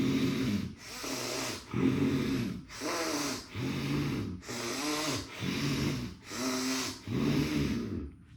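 Alternate-nostril pranayama breathing in a yoga exercise: seven slow, rhythmic cycles of loud, airy nasal inhales and exhales, close up with no talking.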